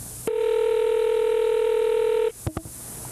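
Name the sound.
telephone being dialed to call someone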